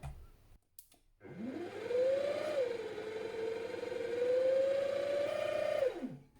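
A 4x6 bandsaw starts up after a few faint clicks, its motor whining up to a steady tone. It holds a loud, even hum for several seconds, then winds down at the end.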